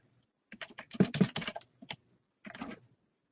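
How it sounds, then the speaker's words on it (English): Quick bursts of clicking on a computer keyboard as an email address and password are entered, close and fairly quiet, in a short run followed by a brief pause and a final flurry of keystrokes. "So you'll type your email address and your password."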